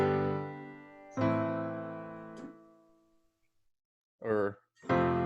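A short chord progression resolving to the 6 chord with a melancholic feel: two sustained chords ring and slowly decay, then after a pause a final chord sounds, with a brief voice speaking just before it.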